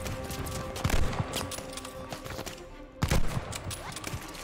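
Gunfire in Call of Duty: Vanguard, a dense rattle of shots over a busy, noisy battle backdrop, with heavier bursts near one second and three seconds.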